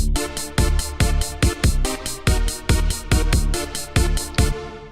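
A clown boss battle theme plays with drums added, punchy kicks and hits landing in a quick driving rhythm over layered synth chords and bass, loud and alone.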